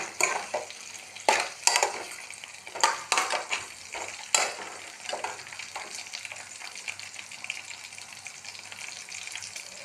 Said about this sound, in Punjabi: ਚੰਗੀ ਤਰ੍ਹਾਂ ਨਾਲ ਚਲਾਵਾਂਗੇ ਤਾਂ ਜੋ ਇਹ ਚੰਗੀ ਤਰ੍ਹਾਂ ਨਾਲ ਫਰਾਈ ਹੋ ਜਾਣ